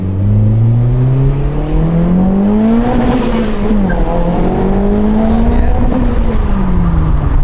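A loud turbocharged Honda Civic engine revs up and down repeatedly, rising and falling in pitch with a turbo-like whine, close and continuous.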